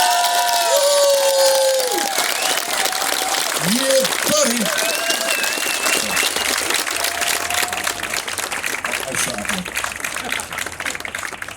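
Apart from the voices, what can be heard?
crowd cheering and applause for the strongman Tom Stoltman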